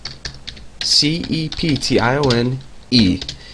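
Computer keyboard keys tapped during a Java programming lesson, a few light clicks scattered between and under a man's steady spoken explanation.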